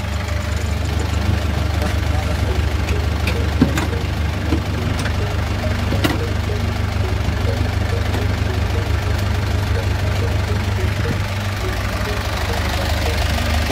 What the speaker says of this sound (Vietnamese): Chúng ta sẽ cùng nổ máy chiếc xe lên kiểm tra.